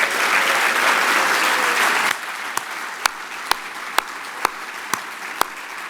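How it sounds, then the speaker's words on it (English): A benefit event crowd claps in a full burst of applause that stops abruptly after about two seconds, followed by a few scattered single claps at spaced intervals. "So I'd like to give a round of applause."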